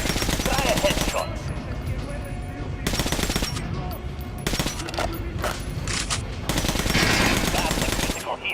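Automatic gunfire from Metro Last Light, shooting an armored practice dummy, comes in dense sustained bursts separated by brief gaps, loud and close, with game sounds and some voice in between.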